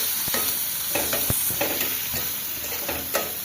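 Fish fries in a pan while a spatula stirs and scrapes, quick irregular clacks over a continuous close sizzle.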